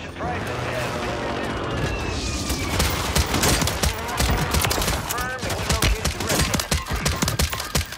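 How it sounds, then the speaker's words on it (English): Precision airstrike explosions in the video game Warzone: a dense, loud barrage of booms and rapid blasts rolls on and grows choppier toward the end, with voices talking over it. "Friendly precision airstrike inbound."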